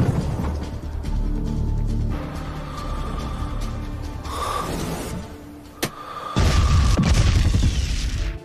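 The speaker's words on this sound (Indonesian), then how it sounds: "bom tersebut dengan tepat meledakkan mobil membawa senjata biokimia" A bomb blasts a car carrying biochemical weapons in a Chinese sniper action film, heard as a heavy low rumbling boom with a sharp crack near the end, followed by a louder burst of roaring, crackling debris.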